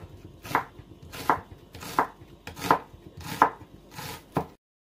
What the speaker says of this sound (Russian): Режем здесь что лук.